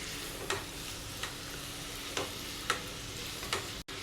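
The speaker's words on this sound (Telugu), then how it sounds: "ఇలా మధ్య మధ్యలో కలుపుకుంటూ ఫ్రై చేసుకోవాలండి." Beetroot frying in a pan while being stirred: a soft, steady sizzle with about five quick spatula scrapes at irregular intervals, fairly quiet and with no voices.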